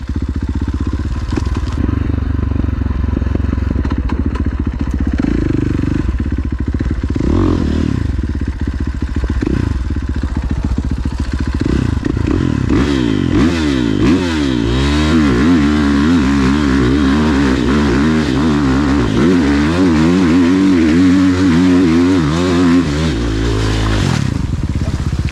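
A free-ride hill-climb dirt bike with a short exhaust, JD Jetting tuner and a 3.5 rear rim revs hard and loud while clawing up a gnarly hill, the engine rising and falling in pitch with clattering and scraping throughout.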